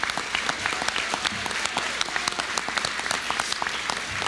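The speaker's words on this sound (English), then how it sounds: "another round of applause for our 2014 56th annual recipient, Mr. Marty Cooper." Audience at an awards ceremony applauding, a steady, moderately close round of clapping from a room full of people that continues throughout.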